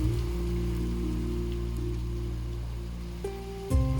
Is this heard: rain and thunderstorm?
yes